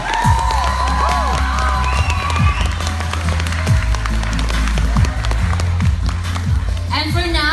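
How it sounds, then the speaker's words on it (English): Audience at a beauty pageant crowning cheers and claps loudly and steadily throughout, with shouting voices, whistles and a thick crowd roar blending together. "Come on, give them a round of applause, please."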